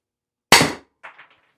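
Single sharp crack of a Byrna or Salt less-lethal launcher firing, a loud close burst that decays quickly, followed by a fainter secondary rattle.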